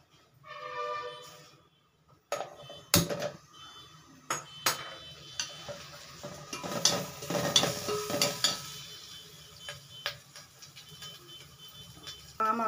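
Ajwain leaves fry in a pan with turmeric and salt, giving a soft sizzle with scattered clinks and scraping of a utensil against the pan, fairly quiet and with no talking.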